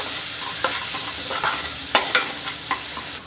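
Ginger-garlic paste is stirred in a pan for dhaba-style chole, a faint steady sizzle under scattered soft spoon scrapes and taps against the metal, with no voices.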